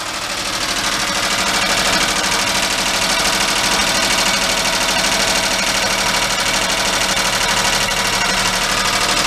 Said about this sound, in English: I got the idle pretty low.